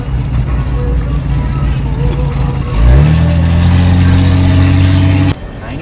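A rebuilt 1983 Holden VH Commodore with a 2.5 inch straight dump off the extractors idles roughly, then surges into a loud, steady rev that holds for a few seconds before cutting back, with voices nearby.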